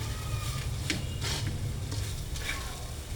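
A sticky rice mixture for balensyana is stirred in a pot, with a few soft scraping strokes at irregular intervals over a low, quiet cooking background.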